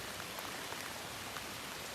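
Heavy lake effect rain pours down in a dense, steady hiss with scattered drop patters, continuous and fairly close throughout with no voices.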